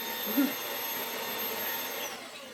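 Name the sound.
Hoover HFX vacuum cleaner running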